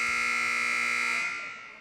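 A scoreboard alarm buzzer at a freshman basketball game, stuck on: a loud, steady electronic drone that holds for over a second, then begins to fade.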